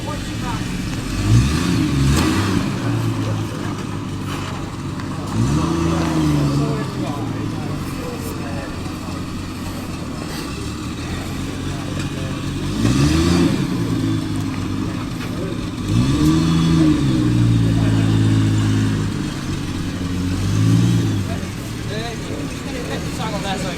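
A classic car's fuel-injected 2.5 litre straight six burbles and revs in several swells at a car show, loud and close, with people talking over it.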